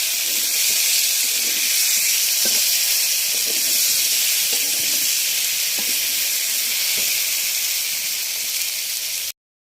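Hilsa fish frying in spiced oil in a hot pan, a steady loud hiss and sizzle running continuously with faint soft pops and clinks underneath, ending abruptly.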